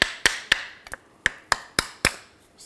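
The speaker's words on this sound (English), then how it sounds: "I'm just going to use a hammer." Hammer tapping a sticking brake pad loose from a rear brake caliper on a 2006-2010 BMW 550i, seven or eight sharp metallic taps in an uneven rhythm, close and clear with no talk.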